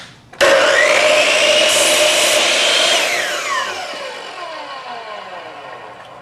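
A Hitachi C10FCH2 miter saw spins up and slices a test cut through a piece of wood, a loud, close motor whine that drops in pitch as the blade winds down.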